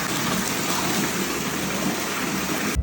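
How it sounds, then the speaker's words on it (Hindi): Cold spring water gushing from an outdoor tap into a bottle in the Pauri Garhwal hills, a steady, loud, close rushing splash that runs unbroken for a few seconds. "चलो बोतल धो धा के अगर अपने लिए पानी भर लेता हूँ।"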